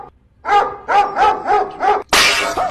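A dog barks in a quick run of five loud, close barks, followed by a sudden burst of broadband noise.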